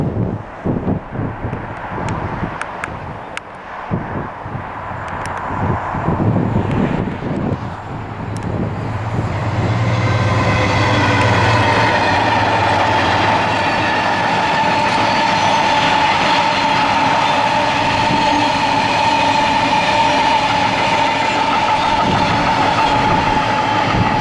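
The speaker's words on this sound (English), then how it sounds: "70020 can be seen passing Grangetown signal box with the empty train from Middlesbrough" Locomotive 70020 hauling an empty goods train from Middlesbrough past Grangetown signal box: a rumble builds from a distant approach into a loud, sustained roar of passing wagons with rhythmic wheel clatter, continuing steadily to the end.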